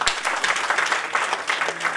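Audience at a Hindi kavi sammelan comedy poetry evening clapping steadily at close range, a dense wash of applause lasting about two seconds.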